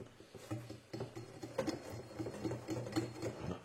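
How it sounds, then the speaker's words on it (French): Crêpe batter of flour, sugar and salt being whisked in a bowl, a steady fast rhythm of light scraping and tapping strokes at close range, with no talk. "On mélange."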